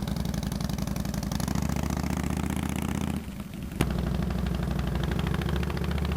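A motorcycle engine held at a steady mid-pitched idle-like drone while the rider slips the clutch with the throttle slightly open, loud and close, with a brief dip and a sharp click before the running note resumes.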